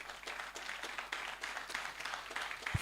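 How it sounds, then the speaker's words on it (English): A live audience claps for an honoree at an Africa Day STEM event, a steady, dense patter of many hands held at an even level throughout, with no talk over it. "Let's clap for him."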